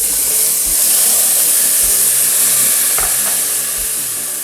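Pork fries loudly in caramelized sugar in a pot for Dominican locrio, a strong steady hiss broken by a few dull scrapes of a spoon, close up with no voices.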